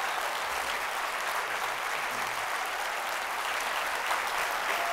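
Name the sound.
audience applause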